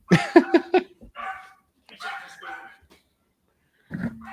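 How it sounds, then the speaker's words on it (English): A dog barks in a few quick close bursts, then whines and yips briefly, with a short pause before one more bark. "Me dog, has to start barking."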